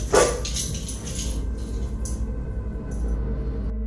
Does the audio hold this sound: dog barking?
yes